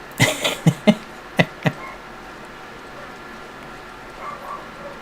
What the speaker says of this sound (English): I can hear barking, but it's outside.